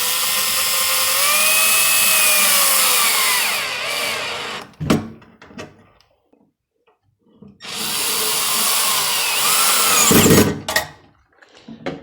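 A power drill drives 3/4 inch screws into plywood, fastening an electrical junction box, in two long sustained whirring bursts separated by a pause, each ending with sharp clicks, loud and close with no talking.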